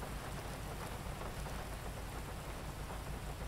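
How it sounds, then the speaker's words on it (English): Heavy rain pours in a Grand Theft Auto roleplay game world, a steady loud hiss of drops on surfaces with a low rumbling undertone, continuous and unbroken. "This rain, though. It looks good."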